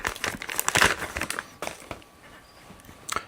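Bubble wrap and a thin plastic bag are crinkled and pulled away from a new low-angle block plane, bursts of close crackling rustle that fade to quieter handling and then a final crinkle.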